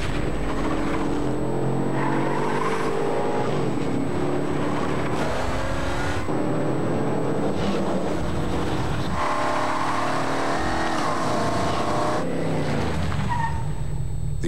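An all-new BMW X5 SUV features in a TV commercial, engine revving and tyres whooshing past in several bursts, layered under music and effects, with no talking.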